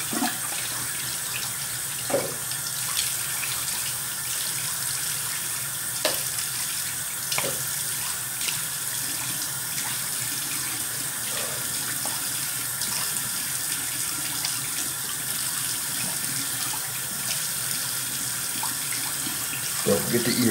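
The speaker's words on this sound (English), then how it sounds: "Now a nice cold water rinse." Tap water running steadily into a sink for a cold rinse while shaving, a continuous close splashing flow with occasional knocks and splashes of hands in the water.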